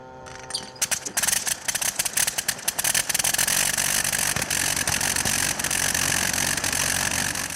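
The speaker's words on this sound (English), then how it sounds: "It's a 1917 Clerget 9B, which is a 130 horsepower rotary engine that was built for the Sopwith Camel." A 1917 Clerget 9B 130-horsepower rotary aircraft engine, built for the Sopwith Camel, sputters into life with a few irregular bursts and then settles into a loud, continuous, rapid-firing roar close by.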